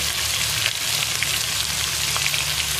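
Whole cumin and ginger frying in a pan of hot oil, a dense steady sizzle with small crackles close by, alone without speech.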